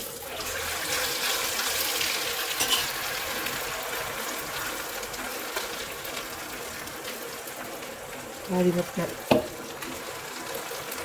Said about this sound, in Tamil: இப்போ எண்ணெய் கொதிச்சிருச்சு பாருங்கள்